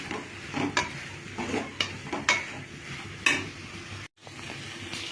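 Ginger garlic paste sautéing in a pan for tomato sambar, a soft steady sizzle broken by several scraping stirs of a spoon against the pan, with no one speaking.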